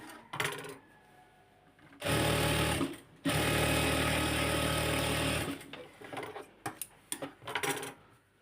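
A sewing machine stitches a new-design pajama, running in two sustained, loud whirring bursts separated by a short pause, with softer clicks and fabric handling before and after.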